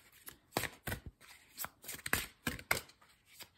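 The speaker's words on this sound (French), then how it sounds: "maintenant je vais prendre une carte des mandats d'énergie" Cards from an energy oracle deck are shuffled and handled for a single draw, giving soft, quiet papery riffles and flicks in irregular bursts, close by with no talking.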